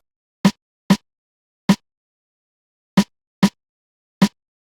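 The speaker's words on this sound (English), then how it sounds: "So what I did is layer it with another rim shot." Snare drum layered with a rim shot in a cinematic hip-hop beat, six sharp isolated hits spaced unevenly, each with a crisp attack and short decay, loud and dry with silence between.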